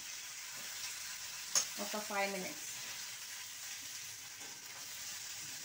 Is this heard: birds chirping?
no